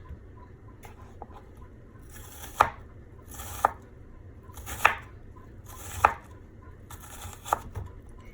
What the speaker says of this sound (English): I'm gonna go ahead and finish cutting the onion